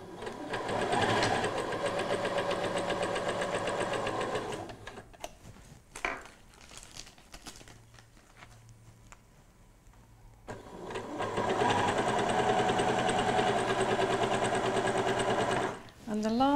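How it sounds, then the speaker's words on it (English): A sewing machine runs in two sustained loud stretches while stitching the seam of an invisible zip, its fast steady needle whir close by, pausing in the middle for a few quieter seconds of handling noises. "And then continue down the seam."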